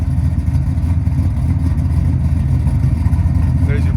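The exhaust of a 540-powered 1969 Chevrolet Chevelle drag car idles with a loud, deep, lumpy rumble that pulses unevenly throughout.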